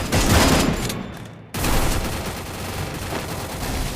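Bursts of rapid gunfire from a shooting video game, loud and dense, with a short break before a sustained stream of shots resumes.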